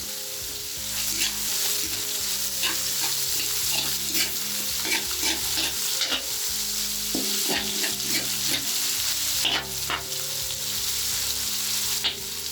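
Cubed chicken stir-fried in a pan for sautéed green beans with oyster sauce, a close steady sizzle broken by scraping stirs and clicks of a utensil, over soft background music, with no talk.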